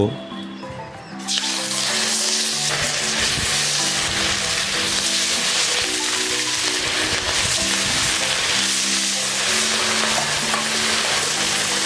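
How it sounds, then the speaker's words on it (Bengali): Fish pieces rubbed with salt and turmeric fry in hot oil in a pan, a dense, loud sizzle that starts abruptly after a brief quiet moment and then holds steady, with background music underneath. "এবারে মাছগুলোকে ভেজে নেব"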